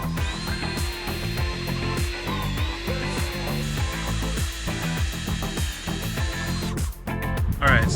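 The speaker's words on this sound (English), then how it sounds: "This cut is made from aluminum, which makes it very easy to drill through." A power drill bores through an aluminum T-top frame on a boat, producing a continuous loud whine and grinding with repeated scraping strokes, then a brief pause before it picks up again.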